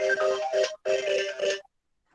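Mobile phone ringtone sounding during an incoming call, two loud melodic electronic bursts in quick succession, followed by silence with no talk.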